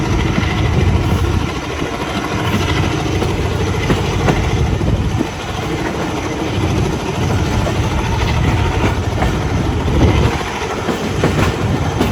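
The Down 70 Awam Express approaches on the line between Drigh Road and Jungshahi in Pakistan, a loud, close, continuous rumble of engine and wagons with rhythmic clickety-clack running throughout.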